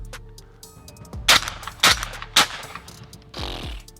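Mossberg SA410 semi-automatic shotgun with an extra full choke firing .410 shells at clay targets: three sharp close shots about half a second apart, a fourth blast after a pause, over a low steady outdoor hum.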